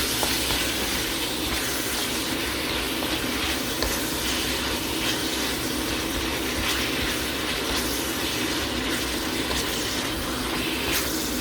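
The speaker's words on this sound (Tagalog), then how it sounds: "Sautay natin ang chicken sa bawang sibuyas." Chicken sizzles steadily in a pan with garlic and onion, a dense continuous frying hiss that stays loud and even throughout without any speech.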